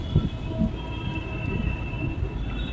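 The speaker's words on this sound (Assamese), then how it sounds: "সেইটো মেট্ৰ' হয়, এইটো ধৰাচোন, সেইটো মেট্ৰ'টো হয়।" A metro train rumbles past close by, a steady heavy roll of wheels on track with faint metallic squealing above it.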